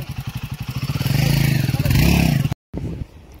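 A new Royal Enfield Himalayan motorcycle rides along an empty road, its engine pulsing in a rapid thumping rhythm that builds to a steady loud drone, broken by a brief cut near the end.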